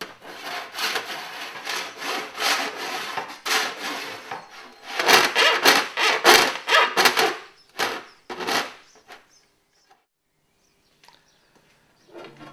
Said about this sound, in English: We use a file.